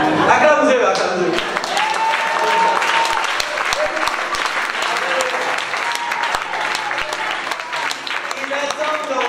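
A conference audience applauds loudly and continuously, with dense clapping from a large crowd and voices cheering and calling out over it.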